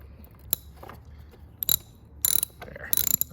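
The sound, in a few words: wrench ratcheting off nut on Black & Decker LE750 edger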